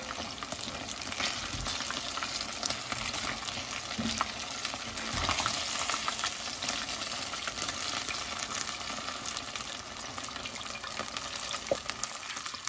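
Cream cheese wontons deep-frying in oil, a continuous close bubbling sizzle with faint scraping of a utensil now and then, steady and unbroken throughout, with no voices.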